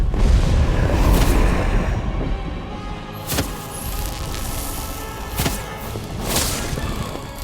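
A Confringo explosion spell in the Harry Potter: Magic Awakened video game bursts with a heavy, loud rumbling boom, followed by a few sharper thuds and impacts over a sustained roar.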